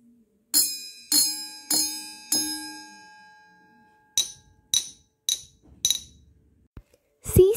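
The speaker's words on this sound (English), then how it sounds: "we have two types of glasses. One is of steel and one is of glass. They will produce two different kinds of sounds." Two drinking glasses, one steel and one glass, struck in turn: four bright ringing strikes with long decays, then five shorter, duller clinks with quick fade, sharp and close in a quiet room.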